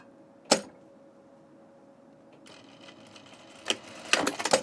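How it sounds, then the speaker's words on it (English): A serger sews an underwear side seam, with a quiet motor hum, a sharp click near the start, then a short burst of stitching that ends in a few louder clacks. "we're going to sew one side seam together"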